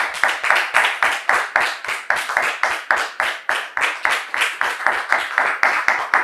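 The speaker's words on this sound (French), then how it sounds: "ce sera avec vos applaudissements que nous allons donc les recevoir" Studio audience clapping steadily in dense, rhythmic applause, loud and close, continuous throughout with no talk over it.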